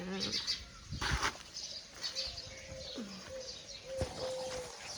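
Scattered small sparrow chirps and tweets outdoors, fairly faint, with a few sharper calls and soft background ambience.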